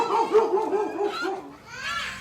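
A dog barks and yips in a home courtyard in Bali, a few quick, close, moderately loud barks followed by a softer whimpering tone.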